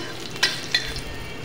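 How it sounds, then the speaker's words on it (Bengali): Garlic fries in a pan with a faint steady sizzle, broken by two quick spatula scrapes close together, near and quiet. "রসুনটা একটু কায়দা করে ভাজে নেবো, লাল লাল করে ভাজে নেব।"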